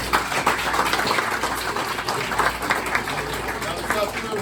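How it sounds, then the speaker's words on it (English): An audience at a First Responders Lions Club fundraiser breakfast claps in a dense, steady round of applause, with some voices mixed in under the clapping. "So I want to give them a round of applause"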